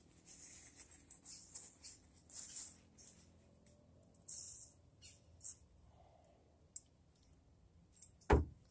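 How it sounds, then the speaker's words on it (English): Short, faint hissing bursts of WD-40 aerosol spray onto paper towels, several quick squirts and a longer one close by in a quiet space, ending with a sharp handling thump. "I'm going to get some WD-40 and spray it on these paper towels."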